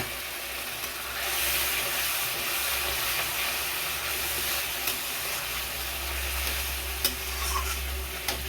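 Already-boiled prawns fry in hot ghee with a steady, close sizzle and hiss, broken by occasional stirring scrapes and small pops, with no voices.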